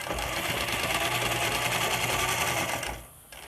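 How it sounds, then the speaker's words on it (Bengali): A sewing machine stitches elastic in one continuous loud motor whir with rapid needle chatter, running steadily for about three seconds before stopping. "সেলাইটা আপনারা এমনভাবে দেবেন যাতে ইলাস্টিকের উপরে সেলাইটা না পড়ে"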